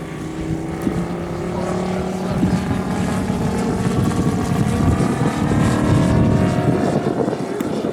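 A propeller aircraft roars overhead at an airshow, a loud sustained engine drone with a throbbing, slightly rough tone that swells and holds throughout.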